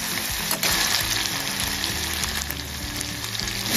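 Shrimp frying in plenty of oil with salt added, a steady close sizzle and crackle filling the whole stretch, with faint background music underneath and a brief dip near the start.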